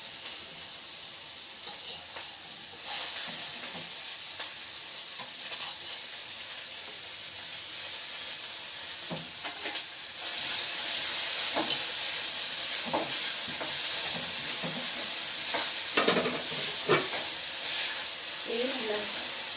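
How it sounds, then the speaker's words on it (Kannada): Onions sizzle in hot oil with cumin in a home kitchen pan, a steady frying hiss that grows louder midway, with scattered scrapes and clinks of stirring close by and no talk. "ಈಗ ಈರುಳ್ಳಿ ಹಾಕೋಣ ಸ್ವಲ್ಪ."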